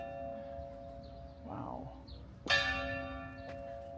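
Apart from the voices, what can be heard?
church bell ringing at Gozo's Citadel, Malta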